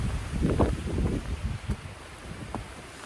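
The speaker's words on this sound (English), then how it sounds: "it's a gorgeous day, but pretty cool and very windy" Cool, gusty wind blowing across a microphone outdoors near a trail shelter on a clear day, a broad rushing roar that swells in uneven bursts and then eases, with no voices.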